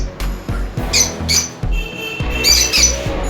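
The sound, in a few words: lovebirds squawking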